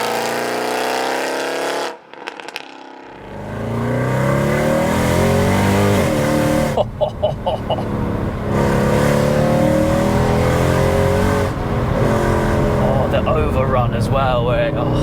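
A BMW E92 M3 engine revs hard, then burbles and purrs on overrun as the revs fall, loud and close with a steady engine drone throughout and brief gaps between pulls.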